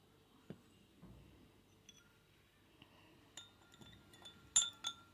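Sparse clinks of a spoon against glass while stirring lemon juice made with fridge water, a few light taps spread out and then a quick louder pair near the end, in a quiet room.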